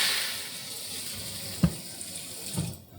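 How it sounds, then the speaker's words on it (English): Water runs from a tap into a cooking pan, a steady rushing splash with a brief clunk partway through and a second small knock before the flow tapers off. "I'm actually going to put like an inch or so of water inside this pan"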